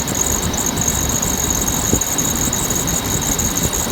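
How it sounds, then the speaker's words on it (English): An idling engine in a Jeep Grand Cherokee with a squeaky belt, a steady high-pitched squeal running continuously over the close engine drone, loud and unbroken, with no talking. "I didn't want to have a squeaky belt because I put a brand new belt on it"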